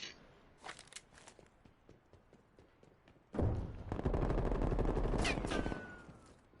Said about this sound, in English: hears the gunshots